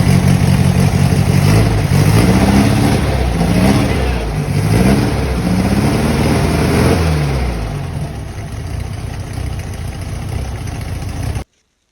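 Beat-up air-cooled Volkswagen Beetle engine in a Baja Bug project, running loud and close with repeated rising revs over a rough idle, then settling to a steadier idle before cutting off.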